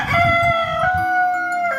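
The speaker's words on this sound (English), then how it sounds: "Chicken cluck." A rooster crows loudly and close by, a drawn-out ringing call with a few rough clucking notes at the start, alone with no talk.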